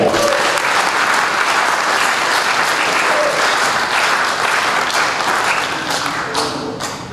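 An audience at a university dinner applauds steadily, with dense clapping holding for several seconds before tapering off slightly at the end.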